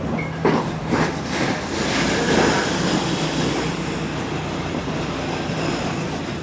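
Ella Odyssey train pulling to a stop at Haputale station in Sri Lanka, a steady mid-level rumble of rolling rail wagons with faint clickety-clack and a brief squeal near the start, no voices.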